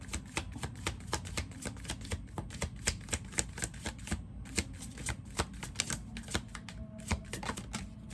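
Tarot cards being shuffled make a quick, even run of soft crisp clicks and flutters close up, continuing steadily for several seconds with no voices.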